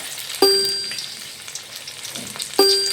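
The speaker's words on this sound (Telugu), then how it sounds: "ఇట్లా చేసుకొని ఇవి ఇప్పుడు ఆయిల్లో ఫ్రై చేద్దాం." Cauliflower pieces frying in hot oil for cauliflower pickle, a steady close sizzle broken twice by a bright metallic clink of a utensil against the pan.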